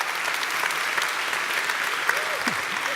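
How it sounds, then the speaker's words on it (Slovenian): Applause from an anniversary celebration audience after a world-record stage game, with steady, dense clapping throughout and a few faint voices in the crowd. "En velik aplavz."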